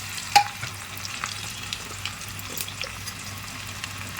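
Chopped onions go into hot oil, giving a sharp clink at the start and then a soft, steady frying sizzle, low in level and close by, with no talking.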